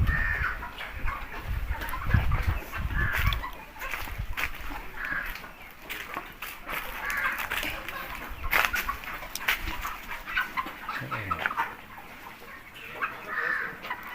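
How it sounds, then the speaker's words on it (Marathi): Chickens and roosters of about four to five kilos clucking and crowing on a village farm, repeated calls near and far over a busy outdoor background. "जवळ 4-5 किलोचे कोंबडे आहेत"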